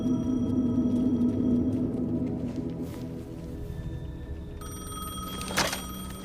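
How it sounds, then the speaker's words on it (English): A payphone rings in the video game Alan Wake 2, a steady repeating electronic ring over a low ambient drone, with a brief sharp click near the end. "The payphone was ringing."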